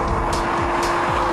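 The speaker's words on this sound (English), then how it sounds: "I'm up to 5th gear." A Ferrari F599 pulls hard in fifth gear at speed, its engine a loud, steady close-up roar that barely changes over the short stretch.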